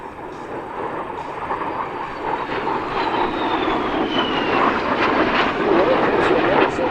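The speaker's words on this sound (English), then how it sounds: "F-100 Super Sabre flies by." A loud jet engine roars past, a broad rushing whine that builds steadily toward the end, with people talking faintly underneath.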